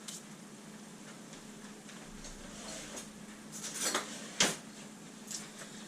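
Metal teaspoons being taken out in a kitchen, with a couple of sharp clinks and rattles near the end over a quiet background hum.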